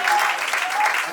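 Wedding guests clap in a dense, steady burst of applause that fills the whole moment, close and loud.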